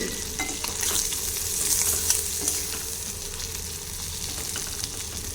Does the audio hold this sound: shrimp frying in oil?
yes